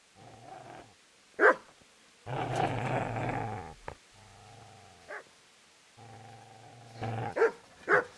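Dog growling in the video game Kingdom Come: Deliverance, a set of low, harmonic snarls that come close and loud, broken by sharp bark-like yelps, with no talking.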